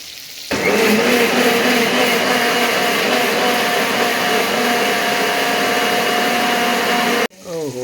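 A mixer grinder whirs steadily and loudly for about seven seconds while grinding ingredients into paste for a Telugu-style fish curry, then cuts off abruptly.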